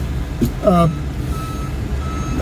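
A big dump truck backing into a parking spot sounds a single loud reversing beep, followed by a faint high tone against steady engine rumble close by.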